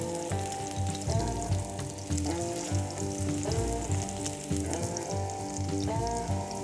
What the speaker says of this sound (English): I have some vegetable oil here that's heating up, and I'm gonna add first only our green onions, just the white parts